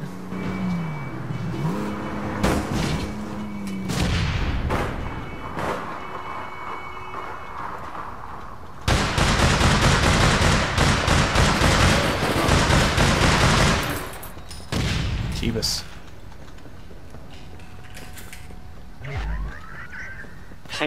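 Gunfire erupts in the online shooter APB Reloaded, rapid automatic bursts dominating the middle amid revving car engines and game effects, loud and dense before fading back to vehicle noise.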